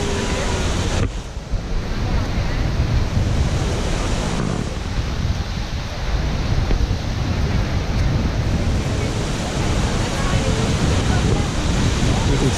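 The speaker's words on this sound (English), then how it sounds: "There's water coming off of multiple points on this rock. Another small waterfall." A small waterfall spilling off several points of a rock into a misty pool at a busy spot gives a steady, dense roar, with gusty wind buffeting the microphone throughout.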